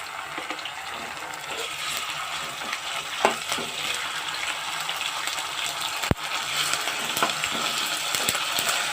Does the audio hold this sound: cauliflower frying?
yes